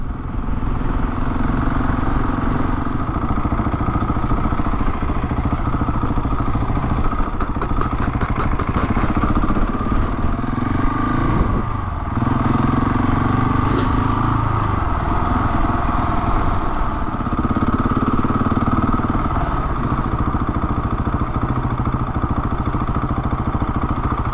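A Husqvarna 701 Enduro motorcycle rides along country roads, its single-cylinder engine a loud, close, continuous rumble that rises and falls with throttle and gear changes throughout, with no talk.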